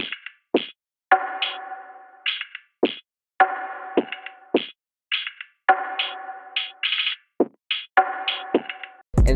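A basic percussion loop plays alone, with sharp metallic clanks and short tonal hits in a repeating syncopated pattern and clean gaps of silence between the strikes.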